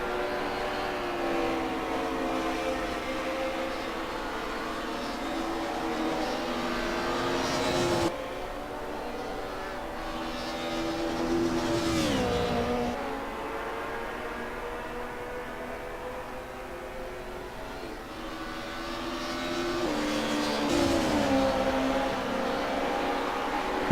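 Race car engines droning in Assetto Corsa at Mugello, sustained loud revving with rising and falling pitch as cars pass and shift, running continuously throughout.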